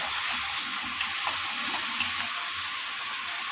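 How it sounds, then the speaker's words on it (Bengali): Shrimp frying in oil in a pan as cabbage goes in, producing a steady bright sizzle and hiss that stays loud and even, tapering slightly toward the end. "এখানে চিংড়ি মাছটা ভাজা প্রায় হয়ে গেছে, এবার বাঁধাকপিটা দিয়ে দেবো ওর মধ্যে"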